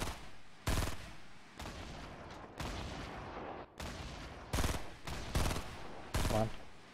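Gunshots from a long-range gun in the video game Fortnite, fired as several loud, separate single shots with gaps between them, each followed by a short decaying rumble, over a steady game background.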